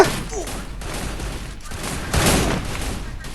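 Gunfire in a battle royale video game, a dense fusillade of rapid shots crackling over several seconds, with a louder burst near the end, under excited talk from players.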